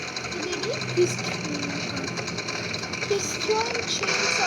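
A chainsaw revs inside a video game, producing a steady, buzzing mechanical drone that holds for several seconds, with small pitch shifts and a few brief game sound effects on top.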